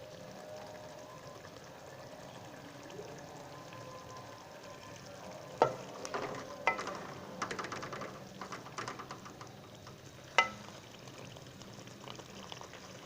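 Beef mince with peas frying in a pan for a qeema dish, a soft steady sizzle with scattered stirring clatters and a few sharp utensil knocks against the pan, moderately quiet and with no voices.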